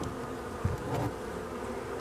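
Honeybees buzz inside a hive during a spring inspection, a close, steady hum with a brief louder swell as bees move near.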